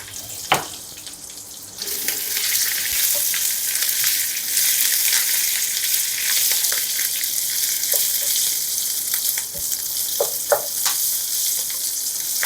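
Slit green chillies hit hot oil in a pan for a jackfruit mustard curry, and a steady bright sizzle rises sharply and carries on with small pops and clicks throughout.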